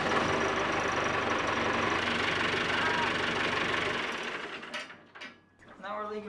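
Engine of an amphibious houseboat running just after being restarted with cleaned battery terminals, a rough knocking idle with mechanical clatter, close and steady, then fading out as a voice talks near the end.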